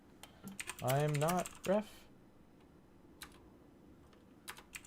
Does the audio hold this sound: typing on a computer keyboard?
yes